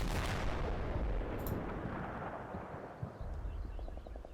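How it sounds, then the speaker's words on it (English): Ammunition cooks off in the Combat Mission: Cold War wargame, a heavy rumbling detonation that rolls and fades, followed by scattered lighter pops and crackles at mid distance. "I think that was just one of the more ammo explosions going off"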